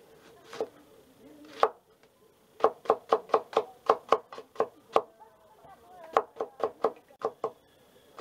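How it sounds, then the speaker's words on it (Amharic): Onions chopped with a knife on a cutting board, a quick run of sharp, close knocks in steady bursts, with a few slower isolated chops at the start and brief pauses between runs. "ዋና መክተፊያችንን አጥበን ሽንኩርታችን እንከትፋለን"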